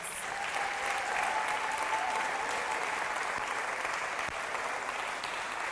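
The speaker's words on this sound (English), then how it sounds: "I'd like to just give them another round of applause" A crowd gives dancers a round of applause at a dance performance in Pinecrest Gardens: dense, sustained clapping, loud and even throughout.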